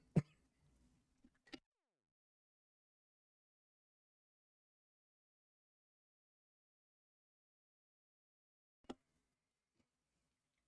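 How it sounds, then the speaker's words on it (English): A single throat clear and short cough ring out near and distinct in a quiet room, followed after a long silence by one more brief cough. "Oh, still have a bit of a cough."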